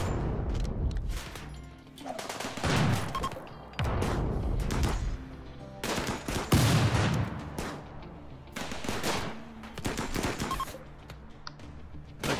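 Video game gunfire from RimWorld bursts in repeated volleys of shots and impacts, loud and dense with short pauses between exchanges, like a small firefight.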